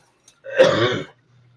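A single short, rough throat-clearing cough close to the microphone, harsh and throaty, with near silence before and after.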